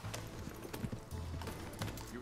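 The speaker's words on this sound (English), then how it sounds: "now we need to get on our horses and go back" Horses trotting in Red Dead Redemption 2, a steady clip-clop of hooves running through the whole stretch at moderate volume, with faint voices underneath.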